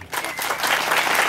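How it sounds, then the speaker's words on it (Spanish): A crowd applauds with steady, dense clapping that swells quickly after a brief quiet start and holds strong to the end. "nuestro ministro Alejandro Sinibaldi, un aplauso por favor"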